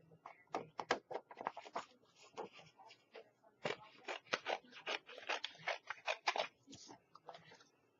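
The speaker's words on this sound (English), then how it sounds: "then I'm going to cut this out" Scissors cut out card with quick rapid snips in bursts, close and fairly quiet, with short pauses between runs of cuts.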